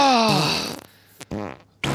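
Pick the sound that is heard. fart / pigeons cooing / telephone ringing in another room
fart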